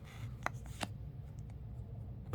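A freshly opened deck of playing cards being shuffled, a few brief riffling clicks and snaps over a low background hum, fairly quiet and close, with no talking.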